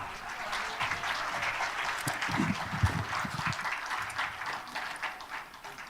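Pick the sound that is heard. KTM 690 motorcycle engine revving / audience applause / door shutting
audience applause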